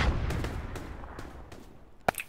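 Gunfire in a war video game: a few scattered distant shots over low battlefield rumble, then one sharper, louder crack near the end, with no talk.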